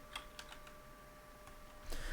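A few light keyboard keystrokes tap out in a quiet, sparse pattern, with a slightly louder clack near the end.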